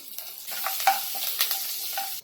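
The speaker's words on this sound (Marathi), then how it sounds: "कढीपत्ता टाकूया" Curry leaves, mustard seeds and cumin crackle in hot oil in a small pan, a close sizzle with sharp pops and a few stirring scrapes that stops abruptly at the end, no one talking.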